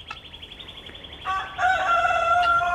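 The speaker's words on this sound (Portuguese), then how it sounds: "Tô escutando um galo cantar ali" A rooster crows loudly and nearby at a bird park in Apucarana, Brazil, its long rising call cutting over soft chirps and clucks from other birds, including guinea fowl.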